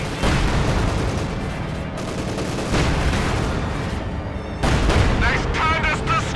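Real-time strategy battle in Company of Heroes 2 as a German Panzer IV tank is destroyed: dense continuous gunfire, artillery booms and explosions crowding the whole stretch, loud and chaotic, with speech mixed in.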